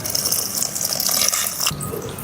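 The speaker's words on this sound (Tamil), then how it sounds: "இப்ப இதுல பாலை ஊத்த போறேன்" Milk poured into a pot holding live fish, a steady liquid splashing and gurgling that runs for about two seconds and then changes tone near the end, with no talking.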